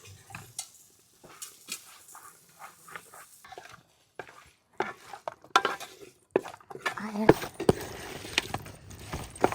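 Beef pickle being mixed with spice masala in a pot, Kerala style, giving irregular scraping and clinking strokes of a spoon against the vessel, close and moderately loud, growing busier toward the end.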